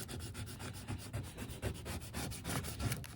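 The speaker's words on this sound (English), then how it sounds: "I'll take my squeegee and I'll start rubbing it down." A squeegee rubs down a decal on a gas tank door in steady, repeated scraping strokes, close and fairly quiet, with no talking.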